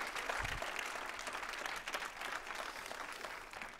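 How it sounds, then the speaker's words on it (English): Applause from the audience at a science pitch event, a brief burst of steady clapping that carries on without talk. "also a very big applause for Franz"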